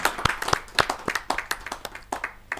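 An audience at a Hindi kavi sammelan poetry gathering claps to welcome a guest, giving a close burst of quick, uneven hand claps from a modest crowd over a few seconds.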